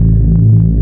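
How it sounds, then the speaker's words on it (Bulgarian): A loud, deep synth bass tone plays alone as a short sustained throbbing hum under a second long. "Ето го първия синт бас."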